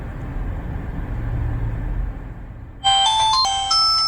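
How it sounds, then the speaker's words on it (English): A kids' GPS smartwatch, the Wonlex SE Tracker 2, starts ringing with an incoming call after nearly three seconds of low background rumble; the bright electronic ring tone is loud and close and continues steadily to the end. "If I click OK, it would just allow you to call and the phone will ring."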